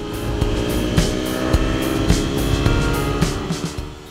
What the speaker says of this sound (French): À l'approche du panneau de la fin des 50 km/h, je ne pouvais m'empêcher d'accélérer.